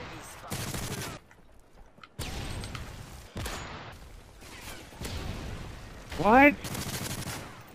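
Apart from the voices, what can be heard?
sniper rifle gunfire in video game Call of Duty MW3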